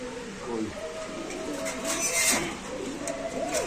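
Pakistani Giribaz pigeons coo with soft, rolling, throaty calls in a busy bird market, close by and overlapping, while people talk in the background.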